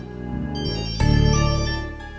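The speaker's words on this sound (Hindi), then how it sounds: "हाँ फोन आ रहा है तुम्हारा।" A phone ringtone plays a bright electronic melody for an incoming call, steady and fairly loud with no one speaking over it, swelling midway then easing off.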